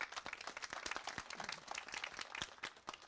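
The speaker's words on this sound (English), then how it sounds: "So big round of applause for everybody who is willing to serve the community." Faint, distant applause from an audience at a city candidates meet and greet, a steady patter of individual claps with no talking.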